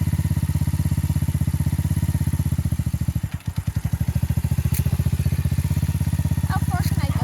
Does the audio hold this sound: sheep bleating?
no